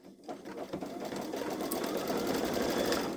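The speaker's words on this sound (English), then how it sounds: "right now it is sewing the shooting star" A Babylock Solaris embroidery machine stitches a shooting star design with a steady, rapid mechanical chatter that runs close and loud throughout.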